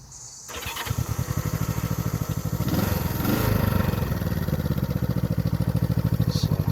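A 1971 Honda CB350 motorcycle engine catches after a brief crank and settles into a steady, close, even-pulsing idle that runs loudly to the end.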